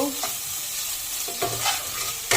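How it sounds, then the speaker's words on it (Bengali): Greens being stirred in a frying pan, a steady sizzle with scraping spoon strokes at the start, middle and end of the moment, close and moderately quiet with no voices. "ভালো করে নেড়ে নেব।"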